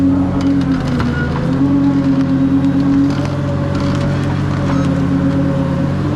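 A heavy lift crane machine in a video game: steady mechanical droning with a low hum and sustained tonal whine, interspersed with creaking, splintering clatter throughout.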